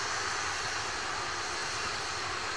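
Atlas V rocket launch with its RD-180 engine, heard from an aircraft at 8000 ft above Titusville as a steady, dense broadband roar that stays constant throughout.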